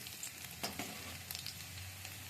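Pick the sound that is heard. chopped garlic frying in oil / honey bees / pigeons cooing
chopped garlic frying in oil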